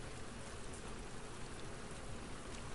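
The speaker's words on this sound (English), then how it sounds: "I don't mind a little rain, but I would be forking miserable if it was raining this much." Heavy rain in the video game The Last of Us Part II, a dense, steady hiss of downpour filling the whole stretch with no pauses, loud and even throughout, with no voices over it.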